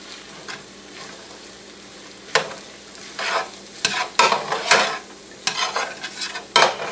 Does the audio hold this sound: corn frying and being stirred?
yes